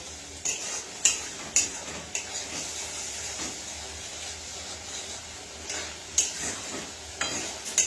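Spiced potatoes for masala aloo dum being sautéed and stirred in a pan: a steady sizzle with repeated scraping strokes of a spoon against the metal at an irregular rhythm, close and without any talking.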